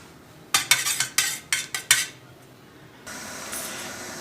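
A spoon stirs salt into little millet ambali porridge, striking the vessel in about seven sharp, close clinks. A steady hiss follows.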